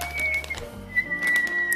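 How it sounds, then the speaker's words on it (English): A person whistles in a home kitchen while fresh almond milk is being made. The thin, clear tones come in two short bursts over a low background hum. "Don't whistle."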